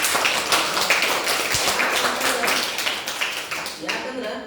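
Applause and clapping from a crowd at a Teachers' Day event at a government higher primary school, sustained and fairly loud with a broad, even texture throughout.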